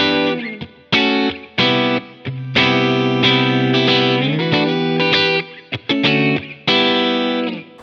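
PRS SE Custom 24-08 electric guitar with TCI pickups, bridge split to single coil and neck left humbucking, played loud through distortion with chorus and reverb effects, strummed chords and ringing phrases with short pauses between.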